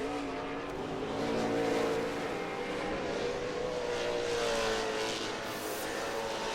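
Sheldon Creed's number 47 Traxxas off-road racing truck roars continuously during the Crandon World Cup short-course race. The engine drones loudly and steadily with a faint rising whine and no gaps, sounding close to moderately near.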